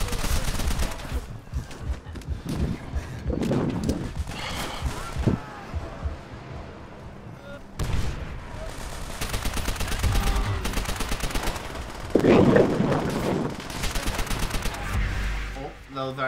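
Gunfire in Call of Duty: World at War during co-op play: repeated loud bursts of automatic and single shots over a dense battlefield din, with a voice talking at times.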